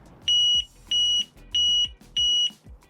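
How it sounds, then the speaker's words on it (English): A compact CO2 detector in a Jeep overland camper sounds its test alarm: four loud, shrill piercing beeps in an even rhythm, close and alone. "I decided to install a small CO2 detector"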